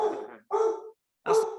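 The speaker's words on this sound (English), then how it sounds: "there's a dog." A dog indoors gives three loud, drawn-out barks in quick succession, each lasting under half a second and separated by short silences, with no talking over them.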